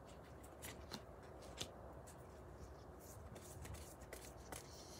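Oracle cards handled and shuffled by hand, giving soft, quiet riffles and faint papery clicks in short bursts over a low, steady room background.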